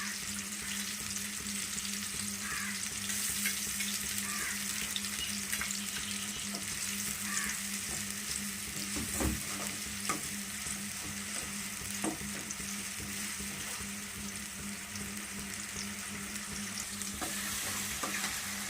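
Ginger garlic paste sizzles steadily in a hot pan for a cauliflower curry, a continuous frying hiss with occasional spoon stirs and clinks, close and alone without voices.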